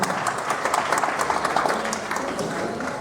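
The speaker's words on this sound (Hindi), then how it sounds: "मेरा सभी से निवेदन एक बार जोरदार तालियों से स्वागत करें।" An audience claps at the inauguration of a police outpost, a dense, steady patter of many hands that holds evenly and then eases slightly toward the end.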